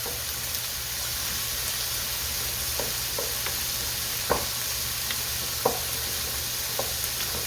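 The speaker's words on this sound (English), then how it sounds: "So I'm going to go ahead and just stir this up." A supreme pizza casserole mixture is stirred in a pan, with a steady low sizzle and occasional scraping clicks of the spoon against the pan.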